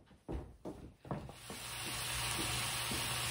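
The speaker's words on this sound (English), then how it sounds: "All right, we are sizzling." Cube steak browns in a hot pan with a steady, close sizzle that builds and holds, preceded by a few scraping and placing noises as the meat goes in.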